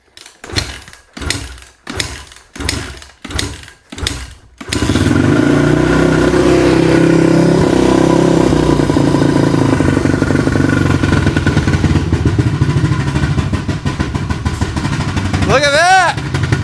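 Several sharp kicks of a 450cc Honda dirt bike engine, then it catches and roars into a loud, steady rev close by, with a brief higher whine near the end.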